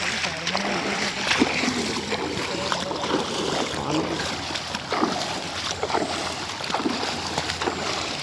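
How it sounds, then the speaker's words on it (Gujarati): Heavy downpour during a monsoon deluge in Anand, Gujarat, giving a continuous wash of rain with irregular splashes and sloshing of standing water close by, while faint background voices talk underneath. "એટલો બધો ધોધમાર વરસાદ પડી રહ્યો છે"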